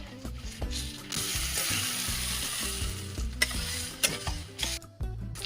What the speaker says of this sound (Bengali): এরপরে মশলা শুদ্ধ চিকেনটাকে কষাবো মিনিট পাঁচের